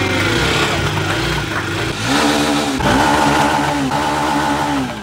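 A motorcycle left standing unused for days is started, its engine catching and revving in loud, rising bursts before settling into a steady running note, close by with no talk.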